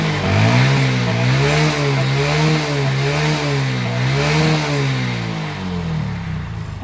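Hero Super Splendor BS4 motorcycle starting on the self-starter and settling into a close, loud idle, its engine note wavering up and down in gentle revs for several seconds.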